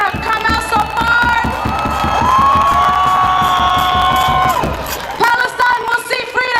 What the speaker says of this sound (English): please give him a warm hand of applause